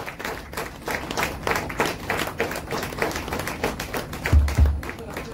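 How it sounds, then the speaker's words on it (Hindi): An audience at a Hindi poetry and shayari stage event claps steadily through an honouring ceremony, a dense and continuous patter of many hands with a few heavier thumps near the end and faint voices underneath. "तालियां बजती रहें।"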